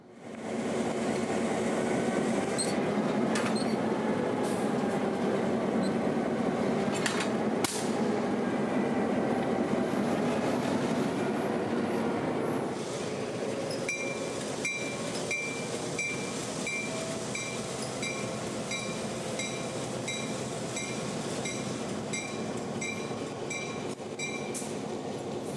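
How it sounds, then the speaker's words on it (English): Locomotive 204 rolls slowly onto the house track at the Florida Railroad Museum, a steady rumble of wheels and machinery with rhythmic clicking over rail joints and a faint bell-like ringing later, close and continuous without speech. "the 204 would be uncoupled and moved into the house track and tied down next to the 8330"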